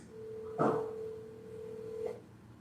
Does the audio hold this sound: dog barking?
no